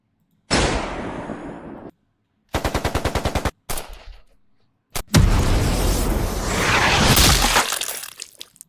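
Loud synthetic gunshot and machine-gun sound effects in a Minecraft mod: a burst of noise, a rapid rattling volley, a couple of sharp single cracks, then a long roaring blast that swells and cuts off.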